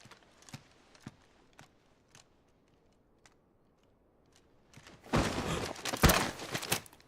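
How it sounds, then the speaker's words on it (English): Sparse hoof clops in Final Fantasy XVI, spaced singly and faint at first, then a louder cluster of clops and shuffling noise near the end. "I'll ready your steed."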